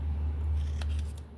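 Scissors snipping through paper at close range during a handmade piano explosion box papercraft, a few short crisp cuts over a steady low hum.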